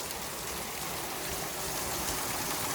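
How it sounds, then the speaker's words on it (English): A waterfall in winter Utah backcountry near hot springs, rushing in a steady, dense, loud roar with no break. "There's a cave behind that waterfall"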